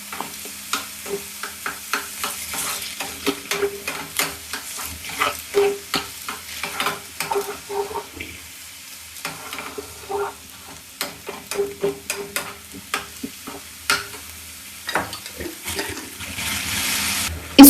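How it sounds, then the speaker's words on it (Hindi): Mixed vegetables with salt and ginger garlic paste stir-fried in a pan for rice paper dumplings: a steady low sizzle under repeated scraping and clacking of a spatula against the pan, close and fairly loud. "अब सारी वेजिटेबल्स डाल दो और नमक डालकर"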